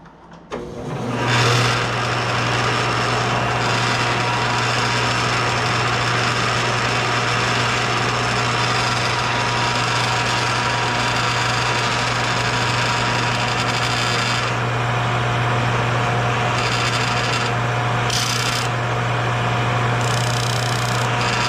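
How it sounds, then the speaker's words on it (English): A power sander grinds steadily against a small wooden piece, switching on abruptly and holding a loud, even whir with a constant hum for about twenty seconds, alone without talk. "So now I'm going to go sand it."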